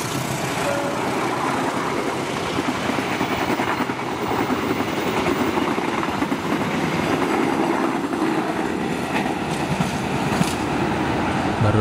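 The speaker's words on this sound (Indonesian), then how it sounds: "Barusan kereta api Kuto Jaya Utara 224." Kuto Jaya Utara 224 long-distance passenger train passing close by, a loud, sustained roar of wheels and rail noise with rhythmic clatter throughout.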